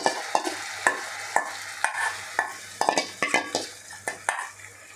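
A spoon scrapes and knocks against a pan as whipped spiced yogurt is stirred into fried onions, with about a dozen quick rhythmic clinks over a soft, low sizzle and no voices.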